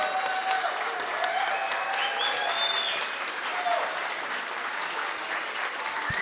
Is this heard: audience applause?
yes